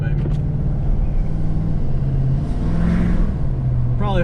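A deleted Ford F250 truck engine drones steadily while driving on the interstate with the window open, loud constant road and engine noise with a brief voice near the start.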